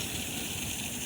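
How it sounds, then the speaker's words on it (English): Water from a fake waterfall fountain at Como Lake rushes with a steady, even hiss heard at a moderate distance, filling a brief moment with no talking. "There's like a fake waterfall right there."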